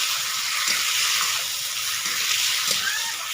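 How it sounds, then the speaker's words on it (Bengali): Tomato curry with salt being stirred in a pan, a steady close sizzle with faint scraping of the spoon and occasional taps, no voices. "লবণটা দিয়ে আমি কিছুক্ষণ নাড়ি চালিয়ে নেব।"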